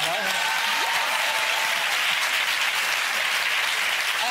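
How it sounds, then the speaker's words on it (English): A television studio audience applauds loudly and continuously, a dense wash of many hands clapping close by, with a voice briefly audible at the start. "clap for their mother"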